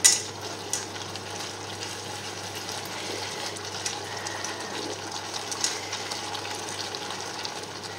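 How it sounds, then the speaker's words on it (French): Risotto rice being stirred in a pan over the heat, a soft continuous scraping and faint sizzle holding steady throughout, fairly quiet and close, with no one talking. "vous remuez de façon à ce que votre riz n'attrape pas"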